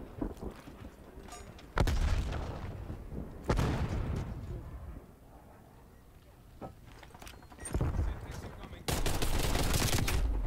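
Gunfire in Call of Duty Black Ops Cold War, loud bursts of automatic fire in several clusters with quieter gaps between, close to the listener, with game sounds around it.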